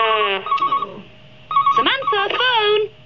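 Telephone ringing in a 1980s tea advert: two bursts of electronic ringing tones separated by a pause, loud and close, with a voice speaking alongside.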